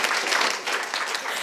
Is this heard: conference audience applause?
yes